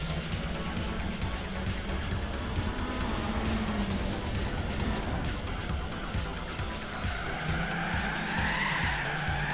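Rear tires of a Lancia spinning and squealing in the racing video game Gran Turismo 4, with a steady engine drone and tire screech running continuously and loudly throughout.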